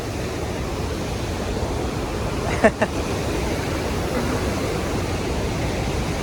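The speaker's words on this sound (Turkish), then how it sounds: "Bunun şelalenin suyuymuş. Yağmur gibi geliyor ya." Spray from one of the world's largest waterfalls, in Paraguay, falls like steady rain, a broad even hiss throughout with a couple of brief sharp knocks near the middle.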